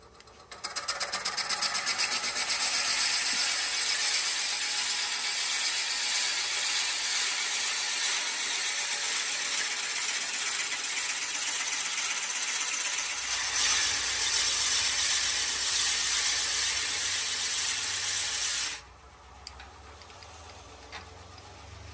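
A wood lathe spins a birdhouse ornament blank while a 1.5-inch Forstner bit hollows it, giving a steady broadband whirring grind for most of the clip that stops abruptly near the end, leaving quiet hiss.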